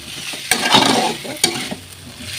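Potato, pointed gourd, onion and spices fry together in a wok, a loud close sizzle broken by two sharp scrapes of a spatula against the metal, with no talking.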